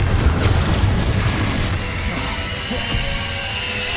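The Confringo explosive spell in Hogwarts Legacy going off as a loud booming blast, followed by a crashing, rumbling decay that trails away over several seconds.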